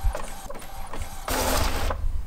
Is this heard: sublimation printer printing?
yes